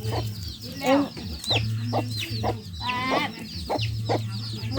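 Chickens clucking repeatedly close by on a family farm in a mango orchard, with short bursts of cackling over a low background hum.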